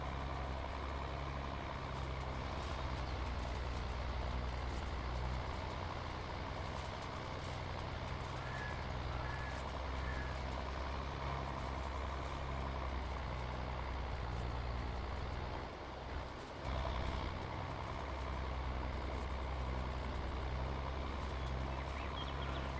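An old tractor rolls downhill in a farming video game, its engine a steady low drone that hums on unbroken throughout, with no talk over it.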